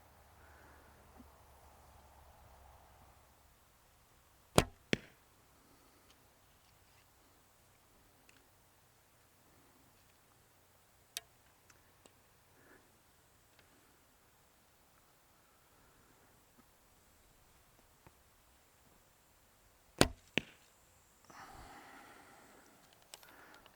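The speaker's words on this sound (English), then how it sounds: "the bow will be loud and maybe the target won't be that loud" Longbow shot with carbon arrows into an outdoor target: two sharp, loud bow releases several seconds apart, each followed by a fainter thump, amid quiet breezy ambience with scattered small ticks.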